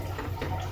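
Water pours into a pot of bajra khichdi, a brief close splashing gush over a low steady hum.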